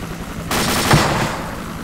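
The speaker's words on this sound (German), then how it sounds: "Darf ich mal kurz schießen?" Gunfire in the military shooter game ARMA II: Operation Arrowhead, a sudden loud blast of shots starting mid-clip with a sharp peak near the middle, then a sustained roar that tapers off.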